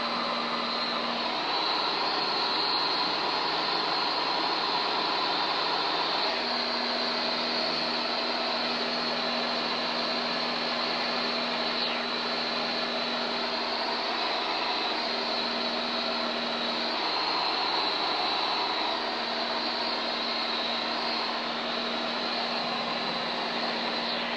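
A Van's RV light airplane engine drones steadily and loudly through takeoff, a constant even roar with a slight pitch wobble and no break.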